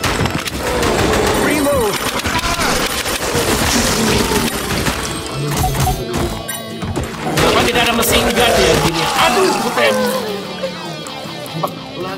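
Rapid gunfire bursts and crashing impacts from The House of the Dead Remake video game, dense and loud throughout, with someone talking over the shooting.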